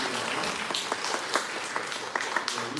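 A church congregation at a Sunday morning university worship service applauds from the upper balcony, a steady wash of many hands clapping with scattered sharper claps standing out, fairly loud and sustained without speech.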